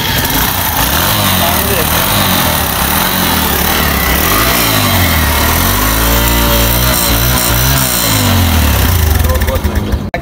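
A Suzuki GD 110S motorcycle engine running: a loud, close, steady idle whose pitch rises and falls as the throttle is blipped, continuing unbroken throughout.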